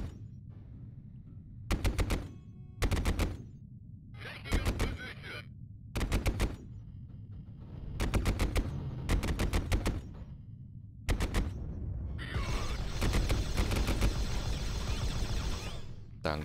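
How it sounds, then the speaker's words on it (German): Bursts of video game gunfire in Warhammer 40k: Fire Warrior, shots striking a wall: about eight sharp, loud volleys of rapid fire spaced a second or so apart, then a longer sustained stretch of shooting near the end. "Er schießt gegen eine Wand."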